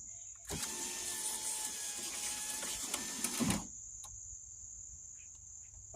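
The power window regulator on a 2004-2009 GMC Envoy whirs and grinds for about three seconds as the glass lowers, then stops, leaving a faint steady electronic whine behind.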